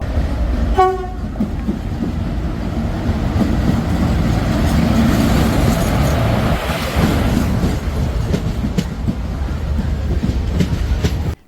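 A passenger train runs on rails, its horn sounding briefly near the start before a loud, steady rumble and rattle of wheels carries on until an abrupt cutoff.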